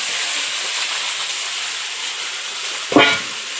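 Garden vegetables and green chili frying in a pan hiss loudly and steadily at close range, with a brief sharper burst of sizzle and scraping near the end; nobody speaks.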